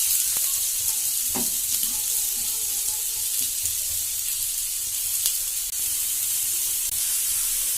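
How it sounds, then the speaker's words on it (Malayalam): Onions sautéing in coconut oil in a pan give a steady, soft sizzle with occasional stirring scrapes, heard up close and alone. "കുറച്ച് വെളിച്ചെണ്ണ ഒഴിച്ച് സവാള വഴറ്റിയെടുക്കാം."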